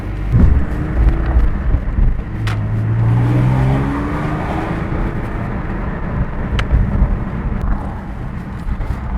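A 2007 Porsche Carrera 4S engine rumbles loudly from inside the cabin while driving, rising in pitch through the gears with audible shifts, steady and close throughout.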